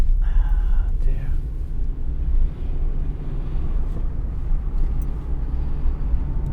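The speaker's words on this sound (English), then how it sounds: "God, this car sounds rough." A car engine runs rough while driving, a low rumbling drone with wind and cabin noise, heard from inside under occasional faint sounds.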